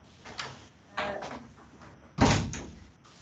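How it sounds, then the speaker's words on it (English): A door in a school presentation room closes with a few soft handling knocks, then a firm, loud thud as it shuts, close by and otherwise quiet. "I'm going to close the door."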